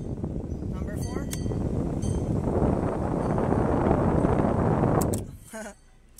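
A Honda Jazz/Fit's AC blower fan roars steadily with a broad rushing hiss, then cuts off abruptly near the end, leaving a few faint clicks.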